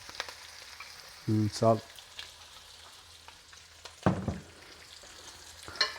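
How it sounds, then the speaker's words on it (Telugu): Food fries in oil in a pan with a soft, steady sizzle throughout, under a few brief bursts of a voice speaking. "సో దీన్ని ఇట్లా ఫ్రై అయ్యేదాకా పక్కన పెట్టి పడేద్దాం."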